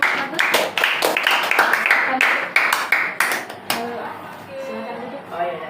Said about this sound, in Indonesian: Oke, kita tepuk tangan dulu untuk kelompok 1